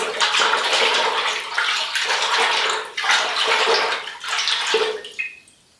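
Water being stirred by hand with dissolved Marseille soap in a dyeing pot, a close, continuous swishing and sloshing in rolling surges with brief dips, fading out at the end; no talking.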